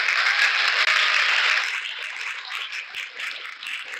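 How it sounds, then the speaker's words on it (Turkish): Recorded applause effect from a lucky wheel app, a dense burst of clapping that holds strong for a moment, then thins and fades while still pattering on. "Çok büyük bir alkış aldım"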